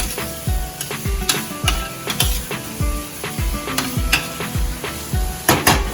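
Chicken pieces coated in turmeric sizzle in a hot pan while being stirred, with steady frying hiss broken by regular scraping clacks of a utensil against the pan, close and loud, no talk.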